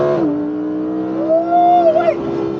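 Lamborghini Huracan Evo with a 5.2 litre naturally aspirated V10, heard from inside under launch control acceleration: a loud, steady engine drone whose higher tone climbs, holds, then drops away near the end. No one talks over it.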